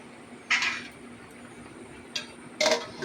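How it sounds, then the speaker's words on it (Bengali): A metal lid set over a simmering curry pot, giving a few short clinks and clatters, one near the start and a double knock near the end, over a low steady background hum. "আর একটুখানি ঢেকে দেওয়া হলো"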